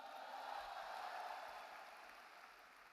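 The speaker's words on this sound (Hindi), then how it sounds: "एक बार आकाश जी के लिए जोरदार तालियां।" Crowd applause at a stage success-day event in Delhi, a faint, distant wash of steady clapping that holds evenly and slowly fades.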